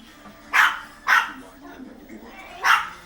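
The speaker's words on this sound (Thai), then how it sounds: "อยู่ด้วยกันเห่าแล้วตอนนี้" Dogs bark in three sharp, loud, close bursts, with softer whimpering sounds between them.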